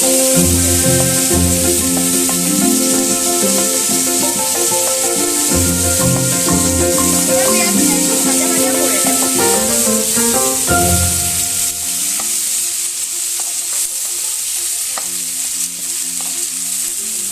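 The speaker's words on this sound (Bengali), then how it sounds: "এবার যে তেলে মাছ ভাজলাম ওই তেলের মধ্যেই ফোড়ন দিচ্ছি কালো জিরে।" Onion and nigella seeds fry in hot mustard oil left over from frying small fish, a loud steady sizzle with stirring and scraping throughout, easing somewhat in the second half.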